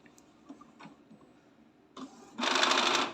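A quiet mechanical whirring and soft clicking, then a louder steady grinding whir of gears running inside an Epson L310 printer during a reboot near the end.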